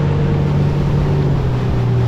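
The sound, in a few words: fishing boat outboard engine accelerating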